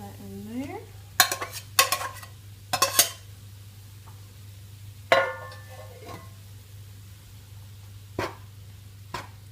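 Lamb mince cooking in a pan: scattered clanks and scrapes of utensils against the pan over a low steady hum, with a soft sizzle beneath and occasional sharper knocks, fairly close.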